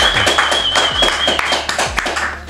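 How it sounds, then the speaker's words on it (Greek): Studio audience applause for guest Giorgos Psaltis at the close of a Greek podcast, a dense steady patter of many hands clapping at once with a few louder claps and some voices mixed in. "τώρα θα πέσει το χειροκρότημα"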